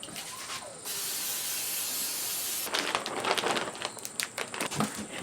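Great Value canola oil sprays from an aerosol can onto a hot Weber kettle grill grate: one long steady hiss for about two seconds, then sizzling crackles and clicks, close and fairly quiet.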